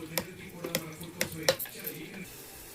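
Tempering spices frying in a pan in a home kitchen, a soft steady sizzle broken by sharp clicks and taps of a utensil against metal several times, close by, with a voice speaking.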